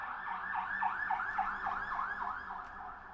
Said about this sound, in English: That was a fire truck for sure.